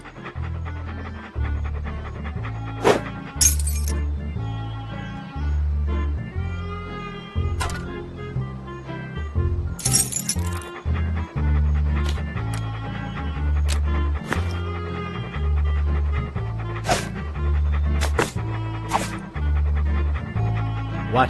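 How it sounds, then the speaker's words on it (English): Dog panting in the point-and-click game Monkey Island 2: LeChuck's Revenge, rhythmic breathy pants repeating over game music with occasional sharp effects. "What a ferocious-looking dog."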